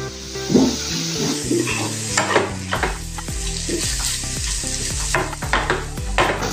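A ridge gourd and potato sabji sizzles in a pan as chopped coriander is stirred in. A steady close sizzle runs under repeated spatula scrapes and occasional metallic knocks against the pan.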